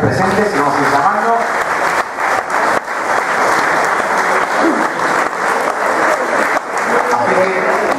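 Audience at a club gathering applauds life members, a steady, dense burst of clapping from a full room that runs throughout, with a voice heard briefly at the start.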